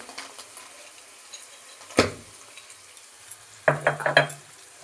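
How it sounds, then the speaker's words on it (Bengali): Cashews added to a pan already frying peas and capsicum: a soft background sizzle broken by one sharp scrape and then a short cluster of stirring clatters near the end. "এইবার আমি দিয়ে দিচ্ছি কাজু খানিক"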